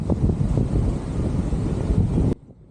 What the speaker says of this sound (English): Oh god, it's windy.